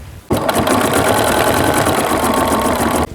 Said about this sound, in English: the machine is going to stitch 2 buttonholes